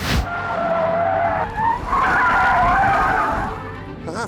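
Ford Focus tires squealing as the car slides wide through a corner, a loud sustained screech with wavering pitch over engine noise, easing off near the end.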